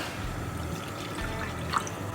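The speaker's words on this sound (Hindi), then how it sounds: "कढ़ाई में पानी डालेंगे" Water poured into a kadai while making karonda murabba, a faint continuous trickle and splash at close range, quiet and steady with no talk.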